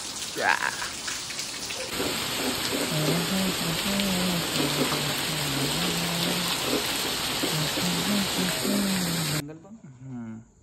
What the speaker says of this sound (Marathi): खूपच जोरात पाऊस.